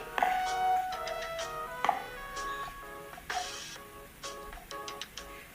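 Plastic plate struck a few times in a classroom, giving short sharp taps at irregular intervals, moderately loud against a murmuring background of children.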